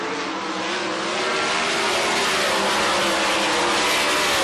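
Race cars roar past on a short dirt track, a loud continuous engine drone with tire and dirt noise, steady and close.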